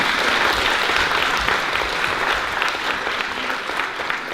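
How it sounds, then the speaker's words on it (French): Audience applause at the close of a training course event, a dense, steady wash of many hands clapping that stays loud throughout and thins only slightly toward the end. "Franchement, on peut l'applaudir, je pense."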